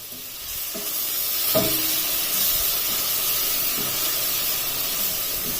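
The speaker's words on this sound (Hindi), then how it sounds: "अब प्याज को इसमें लाइट गोल्डन ब्राउन कलर आने तक फ्राई कर लेना है" Continuous bright sizzling of onions frying in hot oil, with a few faint stirring scrapes underneath; no one speaks.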